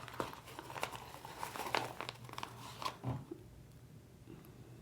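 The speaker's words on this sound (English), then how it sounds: "So let's just cut the tiniest little hole." Scissors snipping a tiny hole into a pocket on a DIY A5 traveler-style notebook, heard as soft crinkly cutting and paper rustles close by, quiet and without talk.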